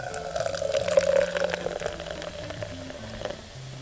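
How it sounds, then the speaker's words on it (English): Lemon lime soda pours and fizzes into a glass close by, a bubbling, hissing stream that swells early and then eases off as the carbonation crackles. "they gotta hear the soda pouring"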